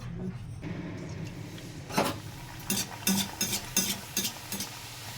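Luchi puffs in hot oil, a soft sizzle under a run of sharp metal clinks and scrapes of a utensil against the pan, with faint background sound and no clear talk.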